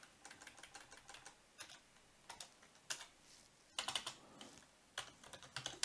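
Code being typed on a computer keyboard, a quiet, close run of irregular key clicks in short bursts with brief pauses between them.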